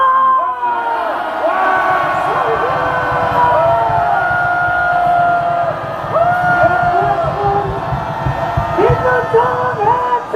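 A large crowd at a rally outside the Seoul Western District Court roars and cheers, with whoops, shouts and whistles rising over a dense, continuous wall of voices.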